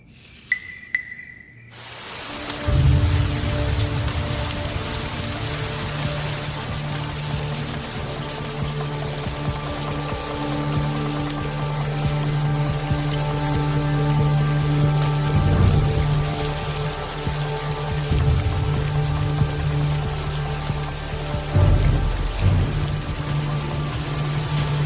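Heavy rain pours down steadily outside a doorway, a dense continuous roar with scattered drips and splashes close by, unbroken for the whole stretch with no voices.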